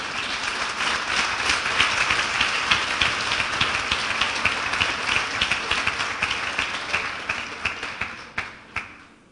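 A church congregation gives loud applause for Jesus at a Spanish-language service, dense rapid clapping holding steady for several seconds before thinning into a few scattered final claps.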